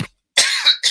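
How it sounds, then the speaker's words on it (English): A single sharp cough, close and loud, with a short second burst following a brief silence; no other sound around it. "Got another cough coming on."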